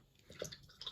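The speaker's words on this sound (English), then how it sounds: "So what we do now is rinse our brush." Soft, close splashing and dripping of water as a small paintbrush used on miniatures is swished in a water pot, a few faint wet sloshes.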